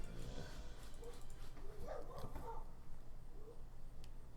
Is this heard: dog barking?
yes